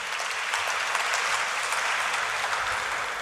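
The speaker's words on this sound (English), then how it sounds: "another big round of applause for the performance" Dense, even applause from a large audience at a medical association's academic sessions inauguration ceremony, a continuous roar of clapping that holds steady throughout.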